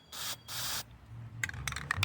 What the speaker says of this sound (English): you're going to want to spray the lacquer thinner out